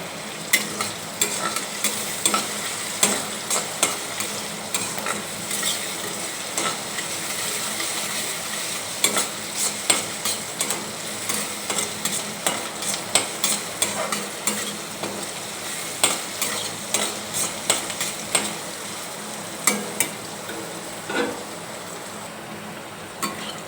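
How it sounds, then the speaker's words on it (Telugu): Onions fry in a pan as a steady sizzle, stirred with a spatula that taps and scrapes the pan in an irregular rhythm over about twenty seconds. The sound stays close, with no talk. "వీటిని దోరగా ఎరుపు రంగు వచ్చే వరకు వేయించుకోవాలి."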